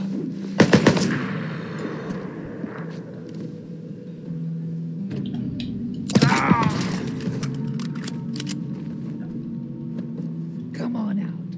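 Sniper fire in the video game Days Gone cracks out in sharp bursts near the start and again around the middle, over a low rumbling game backdrop with someone talking.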